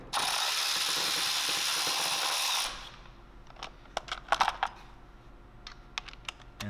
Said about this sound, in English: By first removing the 2 10mm bolts holding the plastic cover.